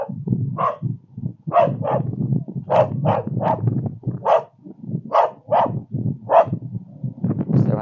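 An angry dog behind a house gate barks repeatedly in rough, gruff bursts, with low growling between barks, loud and close throughout.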